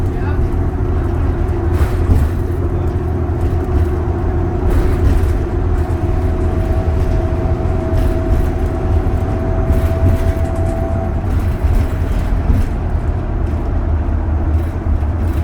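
A 2012 Novabus LFS city bus rides over bumps on route 82 toward Nolan Hill, giving a loud, steady engine and road rumble from inside the cabin, with rattles and knocks throughout and a faint whine partway through.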